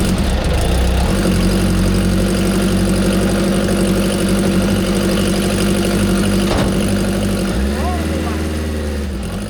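A hydrogen-fuelled supercharged Mini engine runs loud and steady, close by, with a buzzing harmonic drone held against the rev limiter before the pitch drops sharply near the end.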